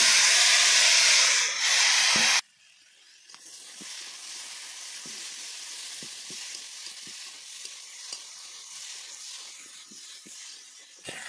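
Potato curry sautéing in a pan gives a loud, close sizzle for about two seconds before it abruptly drops to a softer, steady hiss, with faint scraping stirs under it.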